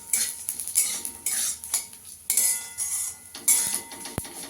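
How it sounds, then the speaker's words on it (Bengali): Whole cumin seeds fried lightly in a pan are stirred with a metal utensil, giving quiet scraping and clinking against the pan in short irregular bursts, with a faint sizzle and no talking. "এক চামচ মতন একটু গোটা জিরে দিয়ে দেবো, দিয়ে একটু হালকা করে ভেজে নেবো এটা।"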